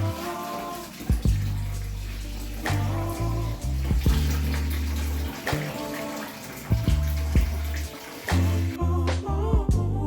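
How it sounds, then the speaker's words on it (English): Rice being washed under running water, a steady gushing tap stream splashing into a bowl with occasional clunks and sloshes, close and continuous. "you have to wash your rice and also cook your rice in water, like submerged in water"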